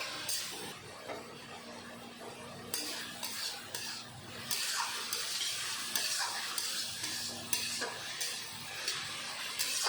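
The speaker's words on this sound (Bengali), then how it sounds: "চিংড়ি মাছ খুব বেশি ভাজবো না।" Shrimp sizzle and hiss in a hot pan while a utensil stirs and scrapes them, with irregular clinks and scrapes over continuous frying, close and moderately loud, with no voices.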